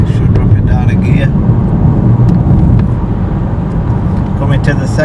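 A 2015 BMW 318 driving at speed on a country road, its engine a steady loud low drone with road rumble, shifting pitch as it slows for a bend and drops a gear; someone talks over it.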